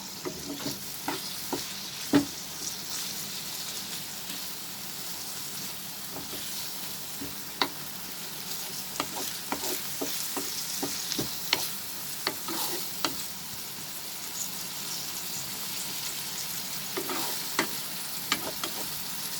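Omelette ingredients, chili among them, sauté in a pan with a steady broadband sizzle, punctuated by sharp scraping clicks of a spatula stirring throughout, with no talking.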